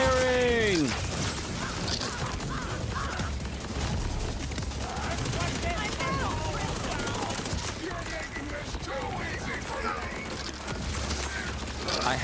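Sustained automatic gunfire from the C4SH character in Borderlands 4 on PS5, a loud, unbroken rattling stream of shots with mechanical clatter, voices calling out over it.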